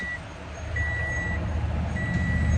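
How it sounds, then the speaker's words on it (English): An electronic beep sounds in short repeated bursts over a steady low engine-like rumble during refuelling, fairly loud, with no voices. "If you don't stop beeping"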